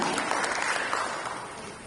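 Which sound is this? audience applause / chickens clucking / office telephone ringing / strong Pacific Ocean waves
audience applause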